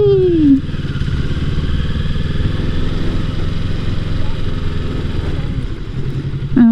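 A motorcycle carrying a rider and passenger holds a steady, moderately loud engine drone while cruising at an easy pace. Brief high vocal squeals break in at the very start and end.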